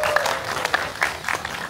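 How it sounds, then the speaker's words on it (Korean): Short burst of scattered clapping from a festival opening-ceremony audience after a traditional music ensemble's performance, uneven and moderately loud. "다시 한번 연주 단계에 박수 한번 주시면 감사하겠습니다."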